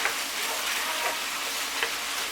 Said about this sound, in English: we want to chuck in 1 tablespoon of Worcestershire sauce and 1 tablespoon of tomato paste. Mix it in really well.